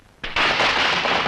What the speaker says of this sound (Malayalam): പടക്കം